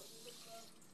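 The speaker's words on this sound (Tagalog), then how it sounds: "Tapos, then, hugasan sa may gripo." Tap water runs steadily into a sink while cleaned fish is washed under it, a close, continuous hissing gush for a brief moment.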